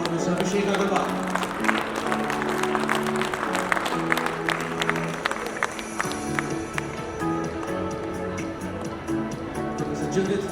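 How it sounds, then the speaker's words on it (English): Audience applause at an event at IIT Bombay, loud clapping running throughout while music with a steady beat and tonal notes plays prominently over it. "Let's have a huge round of applause for Mr. Abhishek Agarwal."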